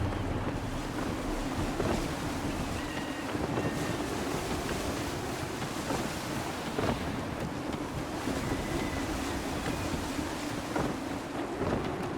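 Sailing ship under full sail in gusty wind in Assassin's Creed 3, with rushing wind buffeting, waves and surf washing against the hull, and creaking rigging in a continuous, loud ambience.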